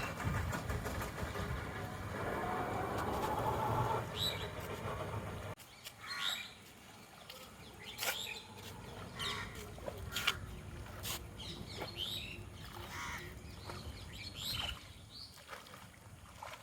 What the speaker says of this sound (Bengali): সবচেয়ে বড় একটা কথা হইলো এখানে পাখির ডাক পাওয়া যায়